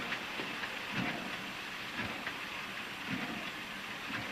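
A passenger train runs on rails with a continuous loud rumble and rushing roar, soft rhythmic clacks recurring about once a second throughout.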